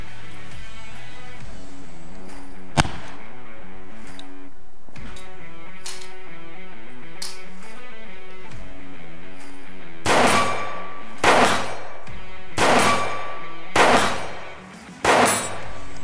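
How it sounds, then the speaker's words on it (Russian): A GP-25 under-barrel grenade launcher fires, followed by rifle shots aimed at a steel target: a single sharp report early on, then several loud, evenly spaced gunshots close by, each ringing briefly. "Сейчас еще один выстрел из ГП и стреляем на точность по железу"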